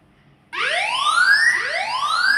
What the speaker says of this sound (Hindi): ये सायरन करने लग गया।